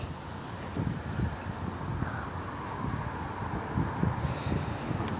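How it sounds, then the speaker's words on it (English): Gusty wind rumbling against the microphone in uneven low thumps, with a faint airy hiss behind, steady and fairly close, no one speaking. "It's windy out"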